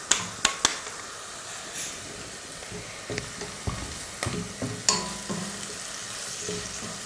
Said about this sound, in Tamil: சேர்த்துட்டு அதை ஒரு நிமிஷத்துக்கு நல்லா வதக்கி விட்ருங்க.